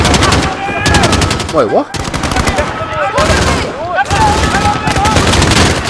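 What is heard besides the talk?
gunfire in Call of Duty Modern Warfare video game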